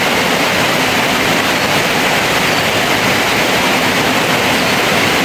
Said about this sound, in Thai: น้ำไหลลินไหลหยเนาะ